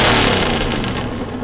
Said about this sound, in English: Chicks dig it when you rev the engine.